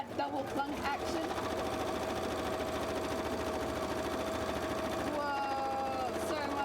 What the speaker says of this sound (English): Whoa, so much clunk noise. I think the sewing machine is kind of louder though